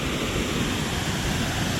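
Waterfall at Fall Creek Falls State Park near Piney Creek, a steady, broad rushing roar of falling water, close and constant, with no voices.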